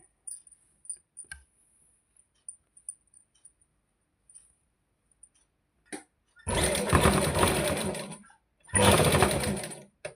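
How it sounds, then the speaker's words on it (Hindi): A sewing machine joins cloth pieces, running back and forth in two sustained loud bursts after a stretch of scattered small clicks and handling noises, close up. "हम इसको आगे पीछे करके 2-3 बार सिलाई पट्टी कर लेंगे"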